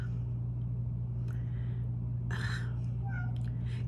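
A cat meows a few times indoors, short plaintive calls standing out over a steady low electrical hum.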